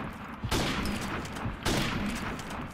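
Two loud bursts of gunshots ring out in a video game firefight, each followed by a short rumbling decay, with no talk over them.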